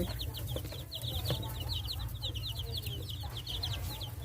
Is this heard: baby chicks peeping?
yes